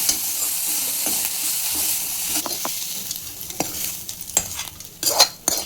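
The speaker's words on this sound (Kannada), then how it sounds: "ಕರಿಬೇವಿನ ಸೊಪ್ಪು ಹಾಕೊಂಡು ಹುರ್ಕೊಂಡು ಹಸಿ ವಾಸನೆ ಹೋಗ್ಬೇಕಿದು" Chutney ingredients roasting with curry leaves in a pan, a bright steady hiss of frying broken by several scraping stir strokes and clinks of the spoon, close by, no voices.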